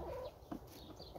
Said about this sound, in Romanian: Pleacă găina că nu-i pentru tine.